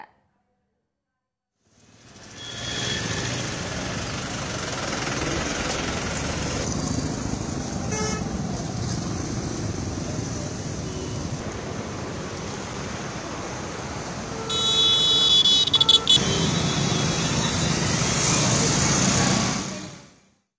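Gridlocked traffic in flooded Delhi near Sarai Kale Khan, with a dense, steady roar of engines. Scattered car horns toot through it, and a louder cluster of honking rises near the end.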